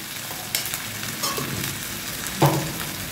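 Spice masala with a spoonful of sugar frying in a pan for cauliflower curry, a close, continuous sizzle with a few brief scrapes of stirring, one louder clack near the end.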